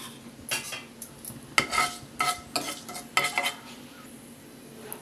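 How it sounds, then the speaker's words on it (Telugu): Mustard and fenugreek seeds splutter in hot oil for a tempering for coconut and raw mango pachadi, with sharp crackling pops in irregular bursts alongside metal spoon clinks and stirring, close and fairly loud, no talking. "కొంచెం ఆవాలు వేసి చిటపటమనేలాగా వేయించుకుందాం."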